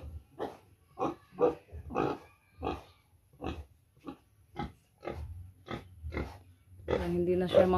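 A pet pig in a pen grunts over and over in a steady rhythm, each short grunt close and clear, building to a louder, longer run of grunting at the end.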